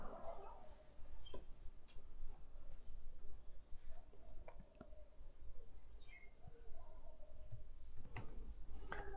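A computer mouse clicks a few times, sharp isolated taps scattered over a low background hum, fairly close and quiet.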